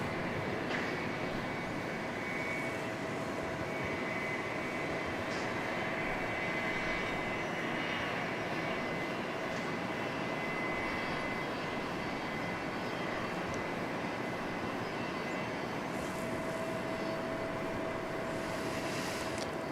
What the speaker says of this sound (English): So that Learjet 45 just came in from Jackson, Mississippi.